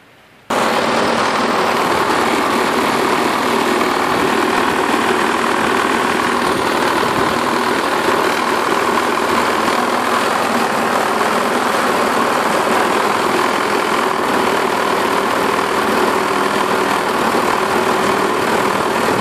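A self-propelled lawn mower engine runs loudly and steadily with a heavy, rough vibration throughout, close up, with no talking.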